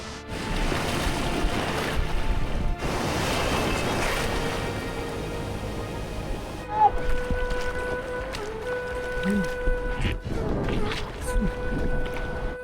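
Ocean surf rolls in at Weligama beach, Sri Lanka: a continuous roar of breaking waves with wind, fading to a calmer wash midway, while faint voices are heard in the background.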